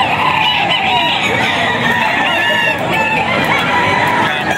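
Several stag roosters on a farm cluck and crow together, a dense, continuous chorus of fowl calls close by with no talking.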